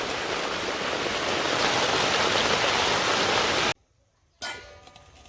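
Steady rain pours down in a village, a dense close hiss of drops on surfaces that cuts out abruptly near the end, then returns more faintly.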